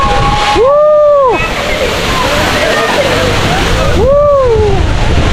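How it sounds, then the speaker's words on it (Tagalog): Tumalog Falls in Oslob, Cebu roars as a steady, loud wash of falling water, with a person whooping twice over the constant rush. "Woo! Tumalog Falls."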